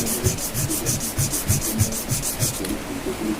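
A welded Pulsar motorcycle footrest holder is sanded smooth by hand, a steady rhythmic back-and-forth rubbing scrape close up, with repeated strokes that stop near the end.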